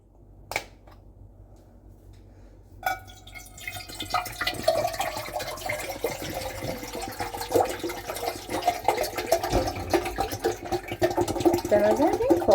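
Mineral water poured into a cooking pot for pasta, a steady splashing pour that builds and continues after a couple of brief knocks, close and fairly loud with no talk over it.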